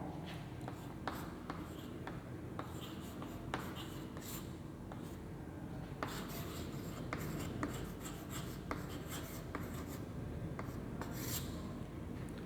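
Chalk or marker strokes scrape and tap across a classroom board during a biology lesson, with short rhythmic scratches and rubs at close range.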